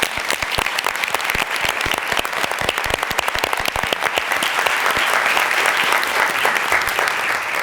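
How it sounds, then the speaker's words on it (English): Dense, sustained applause from a keynote audience at the 2019 Subiendo Academy ceremony, loud and steady throughout with no voices over it. "please join me in a round of applause for the people in your lives who have helped you get this far"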